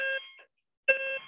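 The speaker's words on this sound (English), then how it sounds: "my fire alarm's going off" Fire alarm sounding indoors: two short bursts of a shrill, steady electronic tone separated by a brief silence, loud and close with no talk over it.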